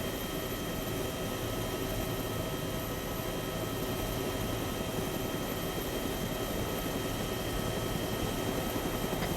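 Helicopter rotors and engines drone in a steady, dense, unbroken wash of noise as aircraft fly in, holding loud and constant throughout with no talking.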